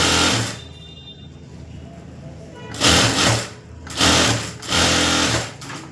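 Sewing machine running bursts of stitching while a border goes onto a blouse, loud and close, with a steady whirring drone that stops and restarts several times.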